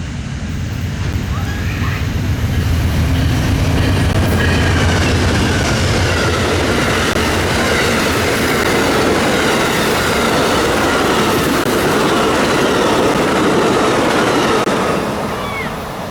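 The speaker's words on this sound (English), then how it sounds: "And now it was finally time for Amtrak 41, the Floridian with the Phase 5 duo" Amtrak Floridian passenger train led by a pair of P42 locomotives in Phase 5 paint rolls past close by, a steady loud rumble of wheels and rail noise with clickety-clack and faint squeal throughout the pass.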